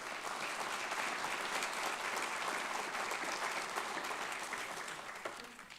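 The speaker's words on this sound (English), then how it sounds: "Let's give a round of applause to Mr." Sustained applause from an awards-celebration audience, a dense steady wash of many hands clapping that holds at an even level throughout and eases slightly at the very end.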